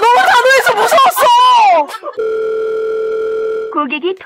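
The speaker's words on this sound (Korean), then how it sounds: "고객이 통화 중이어서 이 소리 후 전화로 연결 중." Steady telephone ringback tone hums for about a second and a half while a call connects, flat and continuous, with voices talking just before and right after it.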